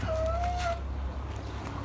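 A single short, rising cluck-like call from a Lohmann Brown laying hen in a coop, close by, over a low steady background hum.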